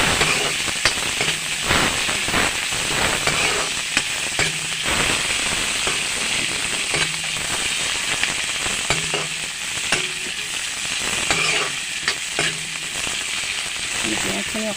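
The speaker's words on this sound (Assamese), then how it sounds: "পিঁয়াজখিনি ভাজি আছোঁ মই।" Sliced onions fry in hot oil in a pan, a loud, steady sizzle with crackling pops and occasional scraping stirs running throughout, close and without talk.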